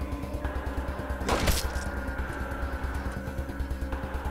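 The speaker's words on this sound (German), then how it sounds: "Die schießen hier durch die ganze Halle." Gunfire in the video game Wasteland 2: one sharp burst of shots near the middle, cutting through a steady low mechanical or music bed that plays throughout.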